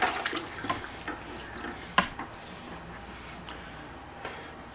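Irish red ale trickles and splashes from a spring-loaded bottle filler during home bottling, a soft continuous liquid wash with a few small clinks and knocks, fairly quiet and close.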